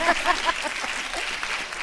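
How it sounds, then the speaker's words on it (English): A short burst of clapping from a small crowd at a college Women in Engineering roundtable talk, brief and moderately loud, with a voice speaking over it. "please clap hands for her for saying that"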